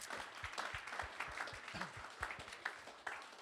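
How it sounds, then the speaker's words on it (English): An audience applauds a woman being thanked at a surf bar talk event: faint, thin clapping from a small crowd, with sharp individual claps standing out over a few seconds. "Let's give her a big round of applause."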